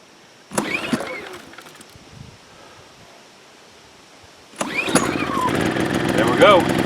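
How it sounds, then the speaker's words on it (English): A Tacklife inverter generator, choke on, fires up with a sharp start after a brief pull, settles into a low idle, then catches again and runs steadily louder near the microphone. "So I'm going to turn the choke on and try to start it."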